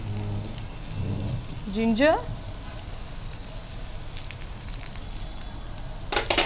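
Onion, garlic and ginger fry in a pan with a steady, soft sizzle, while a voice speaks briefly early on.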